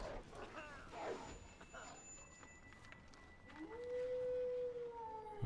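Wolves in the hunting video game Cabela's Dangerous Hunts 2011 let out a long rising howl, faint under background game sounds, with a second howl trailing off near the end.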